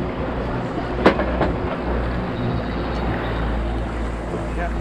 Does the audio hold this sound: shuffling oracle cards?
no